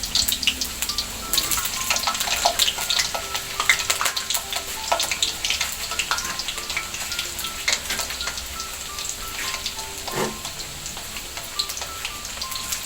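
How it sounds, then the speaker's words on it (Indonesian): Potato patties (perkedel) frying in hot oil in a pan, a steady crackling sizzle with scattered sharp pops running throughout, close and fairly loud, with no talking. "minyaknya sudah mendidih atau lumayan panas. Kita masukkan kentangnya, kemudian kecilkan apinya ya"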